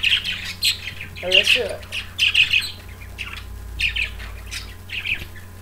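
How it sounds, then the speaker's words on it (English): Pet budgies in their cage in the morning, squawking and chirping loudly in repeated sharp bursts close by, with a person speaking briefly over them. "my budgies are so loud in the morning."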